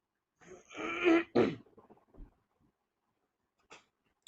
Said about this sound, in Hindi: बस दरमियान में थोड़ा सा गला साफ करना पड़ रहा है